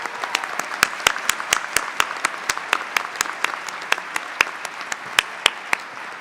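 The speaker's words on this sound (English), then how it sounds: "Let's give them a huge round of applause" Audience applause at a veterinary college White Coat Ceremony in a theater, with sharp, distinct claps from nearby hands standing out over a steady wash of clapping that keeps going for the whole stretch.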